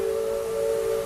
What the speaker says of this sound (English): that sound of the bell and the steam whistle off in the distance